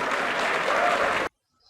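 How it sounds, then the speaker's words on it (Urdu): A crowd at a mass wedding event bursts into dense, loud applause for a little over a second, then it cuts off abruptly into near silence. "زوردار تالی فیاض بھائی کے لیے."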